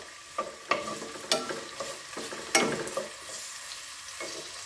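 Onion frying in a pan and being stirred, a steady close sizzle broken by several sharp scraping strokes of the utensil, with no talking.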